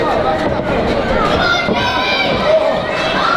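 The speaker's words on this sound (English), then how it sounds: "The fans are cheering for Tony Atlas" Wrestling fans at a GNW event in Pembroke cheer for Tony Atlas, a dense, continuous crowd roar with voices mixed in throughout.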